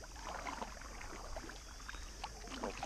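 Paddles dip and stir water as a boat moves across a reservoir at sunset, soft splashes and trickles coming in irregular strokes, faint and close, with no talking.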